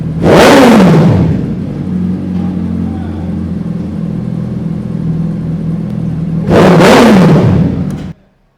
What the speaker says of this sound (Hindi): So चलिए इस मोटरसाइकिल को थोड़ा सा रेव अप करते हैं और चेक करते हैं कि ये माइटी हायाबूसा साउंड कैसे करता है।